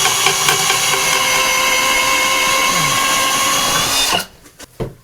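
A power drill bores 3/4 inch holes for kitchen supply lines, whining loudly and steadily for about four seconds before stopping, followed by a few faint clunks.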